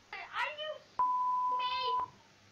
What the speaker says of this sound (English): the beep goes a little bit too long.